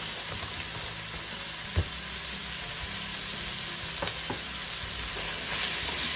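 Beef, onion and green onion stir-fry in a pan for Thai beef fried rice, giving a steady close sizzle with a few scraping stirs and clanks.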